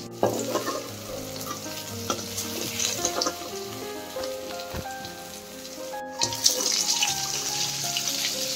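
Fish frying in hot oil in a home kitchen, with steady crackling sizzle and frequent stirring clatter close by, no talk.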